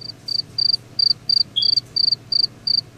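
Crickets chirp in quick, regular pulses, a bright high trill repeating about every third of a second over a quiet low hum.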